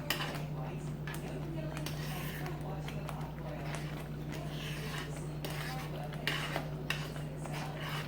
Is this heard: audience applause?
no